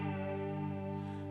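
A sustained electric guitar chord through a chorus pedal, with a wobbling, swirling movement in the tone as it rings steadily and closely without any talking.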